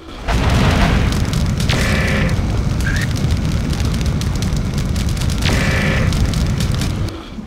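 A hovercraft explodes in the video game MechWarrior 4: Mercenaries: a loud, sustained crackling roar of blast and debris lasts about six seconds, with a few sharper bangs inside it before it cuts off.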